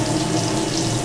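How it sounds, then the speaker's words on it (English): Water running steadily into a sink while a saucepan used for cooking oatmeal is washed, a continuous close, fairly loud hiss and splash with no talk. "we must wash the saucepan, soak the saucepan in water, hot water, and wash the wooden ladle immediately"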